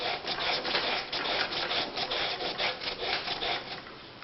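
Red polishing rouge rubbed into a sharpening surface: a steady, rhythmic back-and-forth scrubbing, close and fairly loud, with quick regular strokes and no voices.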